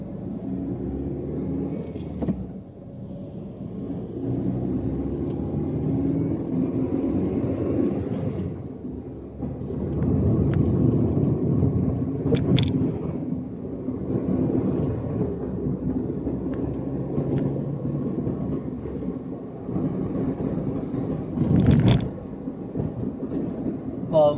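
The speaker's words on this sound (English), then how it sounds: "if you want to know how a manual car drives around the road, well, here it is." A manual car rolls along a road with a low engine rumble and road noise heard from inside, swelling and easing as it drives, with occasional knocks and no talk.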